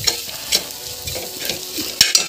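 Ginger and turmeric stir-fried in a pan, a soft steady sizzle with a few sharper scrapes of a spatula against the metal, alone and close.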